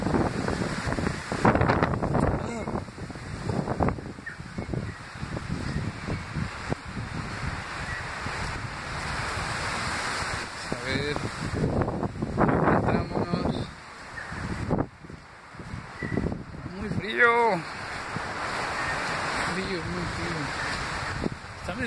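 Wind buffets the microphone on a coastal spot facing the sea and a peninsula, with surf washing underneath in steady roaring gusts while people talk intermittently.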